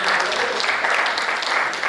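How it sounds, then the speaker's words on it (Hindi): Audience applause at a Hindi comedy stage show, a dense, steady roar of many hands clapping close and loud throughout, with a faint voice underneath. "एक बार तालियां बजा दीजिए"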